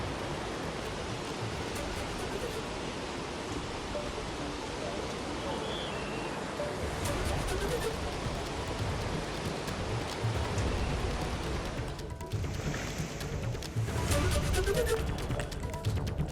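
Heavy rain pours in Anantnag district of Jammu and Kashmir, a dense continuous roar of falling water that swells louder partway through, with a voice speaking over it.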